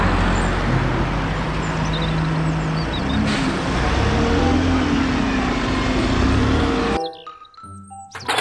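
Traffic-like engine rumble and road noise from a toy city bus, steady and loud for several seconds before cutting off abruptly near the end.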